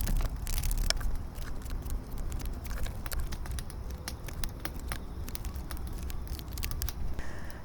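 Tarot cards are spread out across a table in a steady run of soft papery slides and small taps, close and fairly quiet, with no one speaking.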